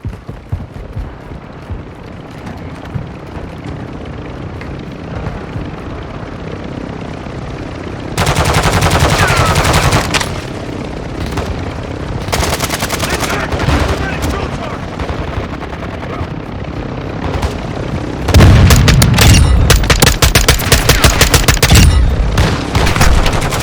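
Bursts of automatic gunfire in Warzone 2 DMZ, loud and close, come in three rapid volleys between quieter stretches of ambient game noise, with scattered in-game voice lines.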